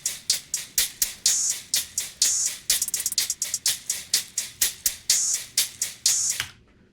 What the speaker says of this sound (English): So the entire hi-hat section sounds like this.